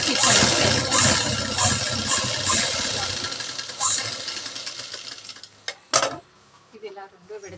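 A domestic sewing machine stitching a chudi pant, running in short bursts of rapid mechanical whirring with brief pauses, then stopping, followed by a few louder clunks near the end.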